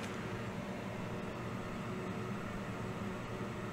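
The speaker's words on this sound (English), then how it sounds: "putting the board up against the fume extractor" A fume extractor fan blowing on a freshly soldered Nintendo Switch Lite board, a steady broadband whoosh with a faint low hum, unchanging throughout and close, with no talk.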